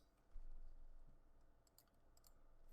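Soft computer keyboard typing, a few scattered key clicks close by, very quiet against a low background hum.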